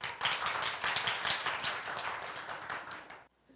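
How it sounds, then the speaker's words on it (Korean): A church congregation claps for a few seconds, brisk overlapping handclaps at moderate volume that stop suddenly and leave near silence. "박수 한번 해주십시오."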